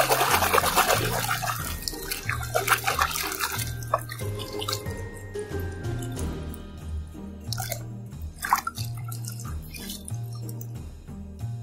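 Tap water runs over a black, pink-tinged toy Spinosaurus dinosaur being washed in a sink, with steady splashing and intermittent handling noises close by, no talking.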